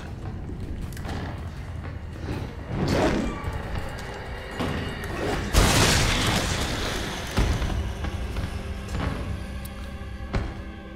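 Several heavy booming blasts from Resident Evil 3, the loudest burst near the middle, with rumbling thuds and clatter between them.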